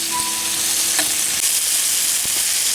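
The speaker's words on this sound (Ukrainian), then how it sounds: "Наш кардицепс продовжує смажитись, можна побачити, що цибуля вже стає більш така жовта." Cordyceps mushrooms and chopped onion fry in a pan with a steady, dense sizzle and crackle that stays loud and close throughout, with faint stirring scrapes now and then.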